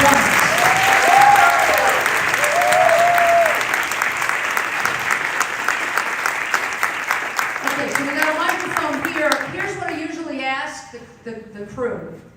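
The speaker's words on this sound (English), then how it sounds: "we all clap really hard for them and we say thank you for such a great performance" An audience claps hard and steadily for the actors after a sociodrama stage performance, dense applause filling the room before thinning out as a voice begins speaking near the end.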